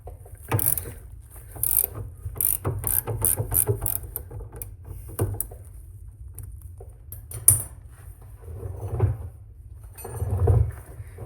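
Wrench working loose the outer nut on a car wheel corner, a run of quick close metallic ratcheting clicks and clanks in bursts, then a pause and a few more clunks, with no talking.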